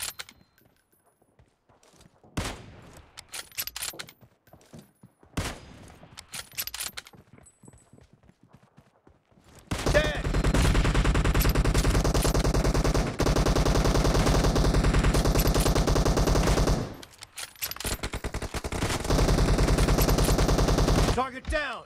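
Sniper rifle fire in the mobile battle-royale game PUBG Mobile: scattered sharp shots at first, then a long, dense stretch of loud continuous gunfire that breaks briefly and resumes.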